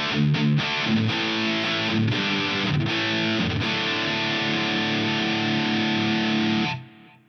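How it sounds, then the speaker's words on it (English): A high-gain distorted electric guitar played through a Headrush pedalboard into an amp chugs through a few short palm-muted stabs, then a long sustained heavy chord that rings loud and close before cutting off, with no talk. "Let's go ahead and bring the drive up."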